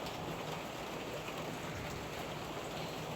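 Heavy rain pours steadily on a small store with a leaking roof, a dense, unbroken hiss with no voices and no letup.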